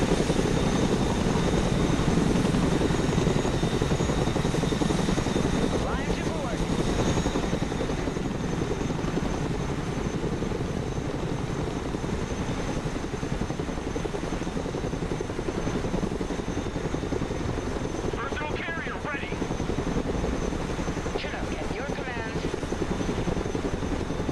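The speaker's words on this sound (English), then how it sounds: "Let's go and recover it with our helicopter" A video-game helicopter's steady, heavy rotor and engine roar runs loud and unbroken throughout, close by and droning with little change.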